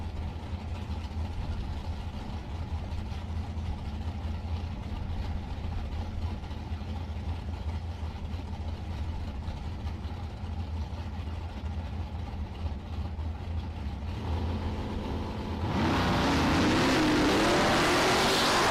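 A dragster at a drag strip, heard as a constant low engine drone with a broad roar that swells sharply near the end as the car launches loud and close.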